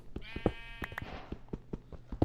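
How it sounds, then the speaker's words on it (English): Minecraft sheep bleating in the video game, several short, bright bleats spaced irregularly over a faint background, with no talk during the cries. "Here's some sheep."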